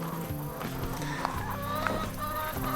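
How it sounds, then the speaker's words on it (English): Chickens clucking in a backyard garden, with a steady run of close, overlapping clucks and short calls, moderately loud and without talk. "The chickens are getting in our garden."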